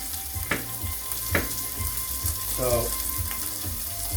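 Steak frying in a pan, a steady close sizzle with a couple of sharp crackles and a brief bubbling burst, and a short spoken word near the start.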